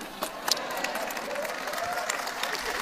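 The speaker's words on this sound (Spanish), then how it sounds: "Usted me aplaude por mi inglés" A church audience applauds during a Spanish-language sermon on prayer, soft scattered clapping at moderate distance with a few sharper hand claps, steady but modest throughout.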